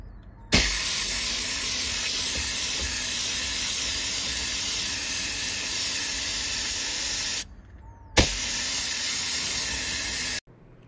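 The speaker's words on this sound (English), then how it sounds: "I finished airbrushing the pink on the top part here" An airbrush sprays glaze onto a ceramic piece in two long bursts of steady, loud hiss, the first about seven seconds and the second a few seconds, separated by a short pause, with no talking.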